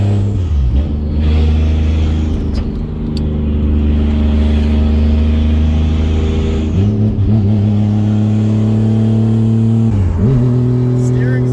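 A Toyota JZX100 Mark II engine drones loudly and steadily from inside the car, with a couple of quick revs and gear changes rising and dipping in pitch.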